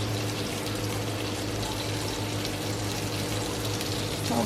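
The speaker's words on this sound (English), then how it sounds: "And then we're going to add little water." About 50 ml of water is poured into a honey, garlic and soy sauce barbecue chicken marinade. The liquid gives a steady, soft wash of noise close by for several seconds, with no voices.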